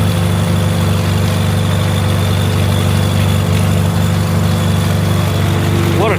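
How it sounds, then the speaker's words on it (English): Farmall H tractor engine running while spraying fields, a loud, steady low thrum with continuous vibration, close and unbroken throughout. "What a tractor, man."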